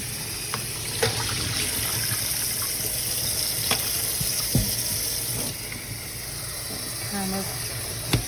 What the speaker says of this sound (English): rinse inside of the turkey and the outside.